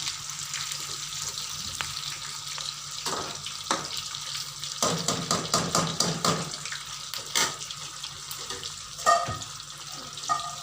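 Thin fish pieces frying in a pan, a continuous soft sizzle with occasional crackles, pops and scraping clinks of a turner, fairly quiet and without speech.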